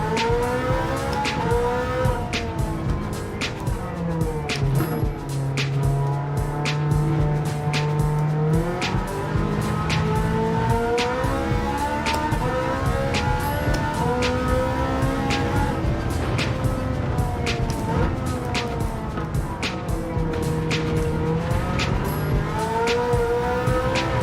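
Engine of a Ferrari race car in Gran Turismo 7 at Laguna Seca, a continuous loud drone with rising and falling revs through gear changes and brief tire squeal, steady throughout with no talk.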